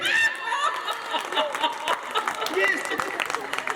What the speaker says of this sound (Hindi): ये वही भाभिया ताली बजा रही है